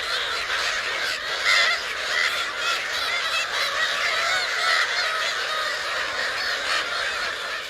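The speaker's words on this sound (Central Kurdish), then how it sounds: "نەورەسەکان سەرڕای ئەوەی باڵندەیەکی کۆچەرین" A large colony of gulls at Dukan lake calls continuously, a dense overlapping chorus of shrill cries that holds steady without a break.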